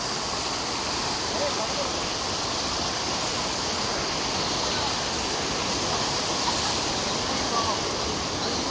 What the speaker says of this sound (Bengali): জলের আওয়াজটা শুনতে পাচ্ছেন জলের তেজ